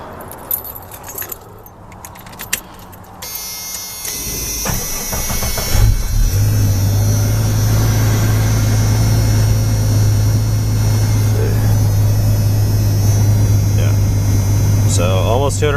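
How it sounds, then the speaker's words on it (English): Keys jingle before a Jeep with almost 209,000 miles on its original drivetrain cranks and fires, then settles into a loud, steady idle close by. "then how my Jeep sounds and runs"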